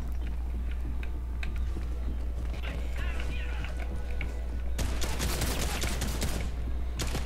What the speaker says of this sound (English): Somebody's shooting right off the bat.